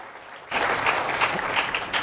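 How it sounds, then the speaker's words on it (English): Audience applause at a debate, bursting in suddenly after a quiet moment and continuing as a dense, even clatter of many hands in a hall. "And a round of applause for EJ, I should say, too."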